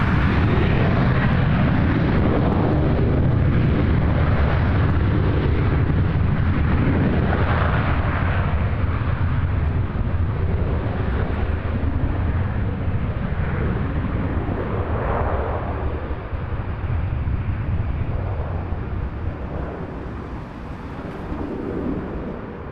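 An Air Canada Rouge jet airliner taking off from runway 06 left at Toronto Pearson, a loud, continuous broadband engine roar heard from outside that holds steady for about twenty seconds before easing slightly at the end.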